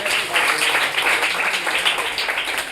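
Loud, steady applause from a school gathering honoring a student with a perfect score, dense clapping filling the whole stretch with no voices over it.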